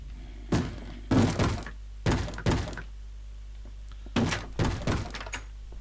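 A zombie bangs on a wooden door in Minecraft: three pairs of heavy thuds, close and loud, separated by short pauses.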